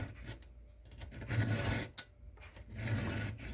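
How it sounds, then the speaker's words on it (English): A hand file sharpens the teeth of a chainsaw chain, making a series of close, steady rasping strokes with short gaps between them. "the beauty of sharpening saws is, it doesn't matter if you're pulling the chain forward, whether you sharpen it, or pushing it backward"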